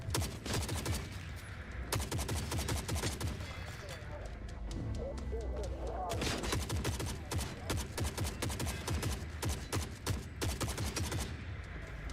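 Rapid bursts of gunfire from a weapon in the video game Forever Winter, loud and dense, repeating nearly without pause with a brief lull midway.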